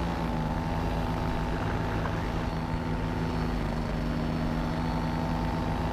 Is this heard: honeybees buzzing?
no